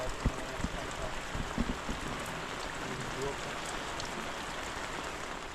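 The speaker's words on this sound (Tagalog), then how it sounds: "Kada hapon na yan, umuulan." Steady afternoon rain falls in an open farm field of calamansi trees, a dense continuous hiss of drops with a few louder close patters early on.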